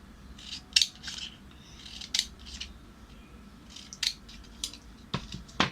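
Scissors snip paper flower petals in a run of short, crisp cuts with small pauses between them, close and fairly quiet, with no talking.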